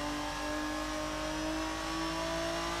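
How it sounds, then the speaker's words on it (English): Race car engine in the Assetto Corsa sim, a GT1 car at Road America, droning steadily at high revs under throttle, with strong sustained harmonic tones and no voices. "Roll on the throttle."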